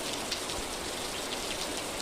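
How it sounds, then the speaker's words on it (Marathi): Dense, steady rain patters and hisses continuously, a heavy downpour close by with no voices or pauses. "एवढा जोर आहे पावसाचा"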